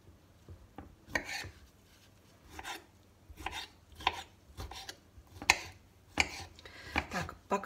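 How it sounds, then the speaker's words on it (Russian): A knife cuts cucumbers on a board for a fish salad, producing irregular, fairly quiet chopping taps and scraping strokes with short pauses between them. "пока режу огурцы"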